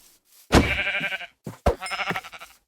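Sheep bleat in the Minecraft All the Mods 8 modpack: two drawn-out, wavering blocky bleats, close and clear, separated by a short pause and a brief click.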